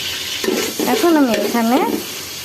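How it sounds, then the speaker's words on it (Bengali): Ginger-garlic paste frying with onions in a pan, a steady sizzle running throughout with a stirring scrape near the start and tonal whining squeaks in the middle, fairly loud and close, no talking. "আমি এখানে 1 মিনিটের মতো আদা রসুন বাটাটা পেঁয়াজের সাথে ভেজে নিয়েছি"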